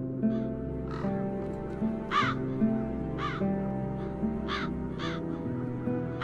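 Crows caw in The Dark Eye: Chains of Satinav, with about eight harsh caws spaced irregularly over a steady background music bed.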